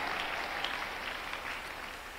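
A church congregation at a Tuesday miracle service claps together in sustained, even applause that fills the room and fades slightly toward the end.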